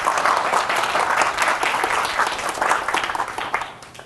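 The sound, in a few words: audience applause welcoming a lecturer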